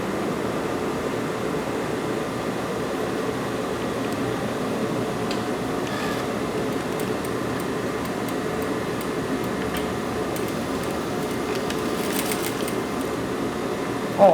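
A sewing machine runs steadily while stitching the collar onto a plaid button-up shirt, with faint ticking clicks over a continuous low mechanical whir at moderate distance.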